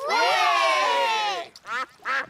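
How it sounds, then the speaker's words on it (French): A long, loud, nasal cartoon duck quacking call followed by two shorter quacks, close by with no other sounds around. "Et voilà les canards."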